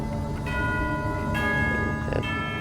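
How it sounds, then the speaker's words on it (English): A bell rings in Genshin Impact, loud resonant tolling with sustained metallic overtones, struck again partway through, over a steady ambient bed. "Hear the sound of bell. It's the sound of bell."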